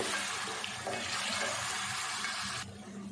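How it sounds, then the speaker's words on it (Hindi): Water pours steadily into a cooking pot of chopped onions for a mutton korma, a broad close splashing rush that runs for most of the moment and then cuts off abruptly near the end. "थोड़ा सा पानी डाल के इसको भी हम साथ साथ भून लेते हैं"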